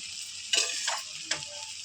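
Cooked rice being stirred into a tomato mixture in a pan, a steady sizzling hiss punctuated by a few scraping stir strokes, close and clear with no talking.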